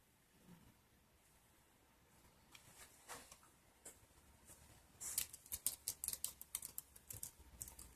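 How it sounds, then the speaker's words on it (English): Typing on the keyboard of a 2009 HP DV7 2185dx laptop, soft scattered key clicks at first that build into a quicker, louder burst of close tapping. "Let me do some typing."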